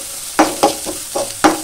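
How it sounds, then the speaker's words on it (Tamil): Garlic and onions sauté in a pan, with five sharp stirring scrapes at a steady pace over a low sizzle. "பூண்டு அதிலே வெங்காயம் வதக்கு"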